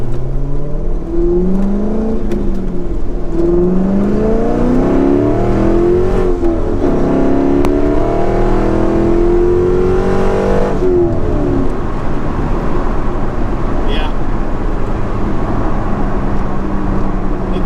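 A powerful Corvette engine revs and accelerates hard, its pitch climbing through several gear shifts before easing off, loud and close throughout.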